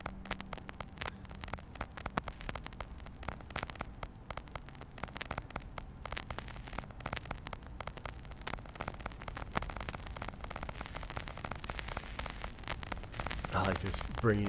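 Steady rain-like crackle and hiss as a sound effect in a song, dense and continuous with scattered sharp droplet ticks, swelling slightly near the end.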